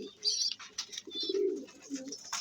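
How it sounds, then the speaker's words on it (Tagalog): A pigeon coos softly in a low, repeated throaty rhythm, with faint higher chirps nearby. "Ang ating ibon ng si Pido."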